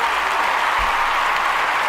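A short burst of steady applause, even and fairly loud, with no voices over it.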